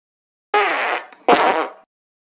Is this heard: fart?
yes